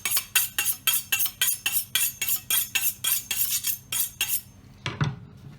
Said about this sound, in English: So just sharpen your knife.